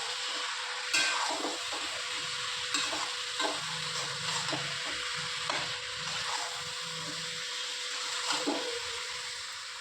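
Steady sizzling from a hot pan with spices frying for coriander chicken, punctuated by scraping stirs of a spoon; no voices.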